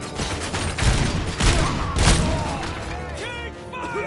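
Heavy gunfire in the RoboCop video game: loud, booming bursts of rapid shots and impacts crowd the foreground, with shouted voices breaking through between volleys.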